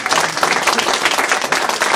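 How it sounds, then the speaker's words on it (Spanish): A seminar audience applauds at the close of a talk, dense, steady clapping from many hands sustained throughout, loud and close with no speech over it. "un aplauso"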